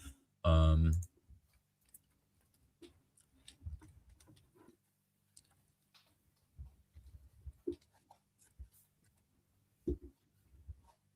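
Light, irregular clicks of keys being typed, scattered and fairly quiet, following a brief loud burst at the start.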